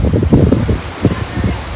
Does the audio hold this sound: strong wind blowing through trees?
yes